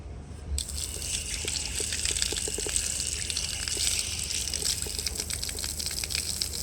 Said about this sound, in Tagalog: Di ba ang cute ng gripo?